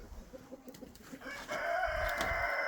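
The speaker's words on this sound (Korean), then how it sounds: "닭들이 잘 먹습니다." Chickens cluck softly in a rhythmic series, then a louder, sustained crowing-like call rises over a farmyard as the flock pecks at broken rice feed.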